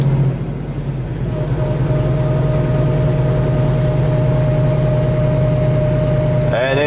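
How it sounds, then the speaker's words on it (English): A truck engine nicknamed Blue, pushed hard climbing a hill: a loud, steady, low drone under heavy load, with little audible change in pitch. "Now we're gonna upshift it."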